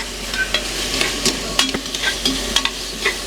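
Tomatoes frying in a pan for a mung bean stew, a soft steady sizzle under repeated scraping and clinking stirs from a spoon, close and alone without talking.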